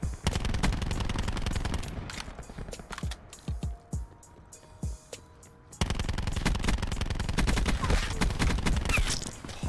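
Peacekeeper submachine gun fire in Black Ops gameplay: loud bursts of rapid automatic shots, then a quieter stretch of scattered single pops and a tone, before heavy sustained firing resumes at close range.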